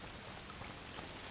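Soft, steady rain in A Plague Tale: Requiem patters continuously, faint and even, with no other sounds standing out.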